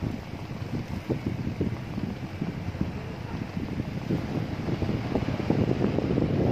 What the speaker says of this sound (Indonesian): Hasilnya kipas mulai menyala kembali